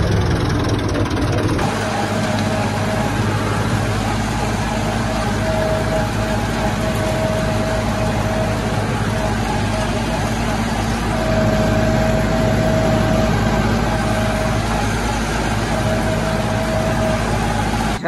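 Massey Ferguson tractor engine running steadily, a loud, close, low diesel drone with constant hum and faint knocking throughout.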